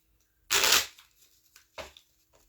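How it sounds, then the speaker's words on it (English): A deck of tarot cards is shuffled close up: one loud burst of riffling cards, then a shorter second riffle and light handling taps, with no talk. "I'm going to shuffle these cards"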